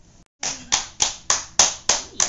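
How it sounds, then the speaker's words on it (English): A small child claps hands six times in a steady, fairly quick rhythm, each clap crisp and close after a brief silence. "He clap hands."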